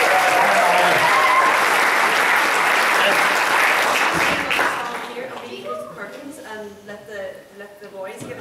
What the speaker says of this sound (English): Give her a big round of applause again.